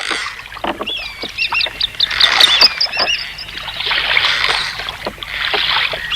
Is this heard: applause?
no